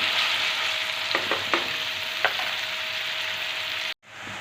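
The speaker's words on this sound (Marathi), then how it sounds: "आता हा टोमॅटो आपल्याला मऊ शिजून घ्यायचा आहे आणि टोमॅटो मऊ शिजेपर्यंत आपला कांदा पण एकदम मस्त परतून होतो" Onion and tomato frying in oil in a pan while being stirred, a steady close sizzle with a few light scraping knocks from the spoon, ending in a sudden brief cut.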